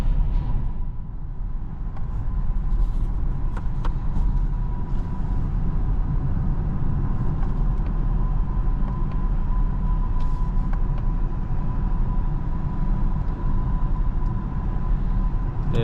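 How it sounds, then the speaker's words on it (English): A 2022 BMW 740i xDrive pulling away and gathering speed on the road, heard from inside the cabin as a smooth, steady low engine and road rumble with faint ticks, no voices. "The car effortlessly accelerates and, you know, gets going on the road."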